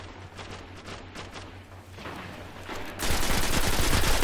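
Rapid assault rifle fire in the Destiny beta PvP multiplayer, with bursts of shots early on building into a loud, dense sustained volley over the final second or so.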